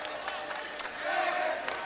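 Basketball crowd after a Tulsa win, a sustained roar of cheering and yelling with scattered whoops, moderately loud and diffuse across the arena.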